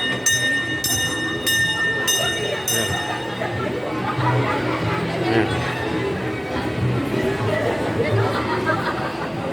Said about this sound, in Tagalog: may train dito sa Angono